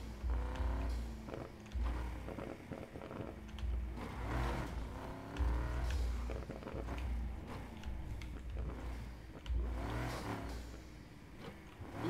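A car engine in a video game drones and revs while driving, shifting pitch as it accelerates, steady and moderately loud throughout.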